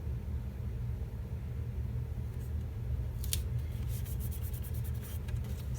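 Scissors trimming through sticker material, a quick run of crisp close snips in the last few seconds over a low steady room rumble.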